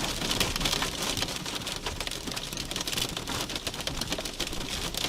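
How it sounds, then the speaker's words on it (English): Hail and heavy rain pelt down during a severe Texas thunderstorm near Whitewright, a dense, loud, continuous patter of sharp hits that sounds like ticking or typing, with no voices heard. "He's getting hail right now."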